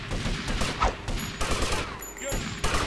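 A burst of repeated gunfire from the GTA Vice City video game, with rapid shots in quick clusters sounding close and loud across the whole span.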